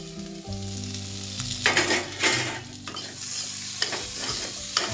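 Potatoes sizzle and fry in a pan for a Bengali breakfast while a utensil stirs them, the steady crackle broken by scraping bursts, close and loud with no voices.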